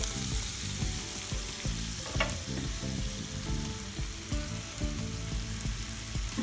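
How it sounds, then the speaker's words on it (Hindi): Potato pieces for a Spanish omelette fry in a pan, giving a dense, loud, continuous sizzle with bubbling crackle and a few sharp stirring scrapes, and no voices. "इसको फ्राई कर लेंगे।"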